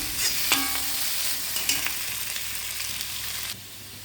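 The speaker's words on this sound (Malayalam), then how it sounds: "വെളിച്ചെണ്ണ ഒഴിച്ച് കൊടുത്ത് ഇഞ്ചി, വെളുത്തുള്ളി, പച്ചമുളക്, കറിവേപ്പില എല്ലാം ഇതിൽ ചേർത്ത് കൊടുത്ത് ഇത് വഴറ്റിലാണ്" Ginger, garlic, green chili and curry leaves sizzle in hot coconut oil while being stirred in a pan, a loud continuous frying hiss with spatula scrapes and clinks near the start, the sizzle suddenly dropping off near the end.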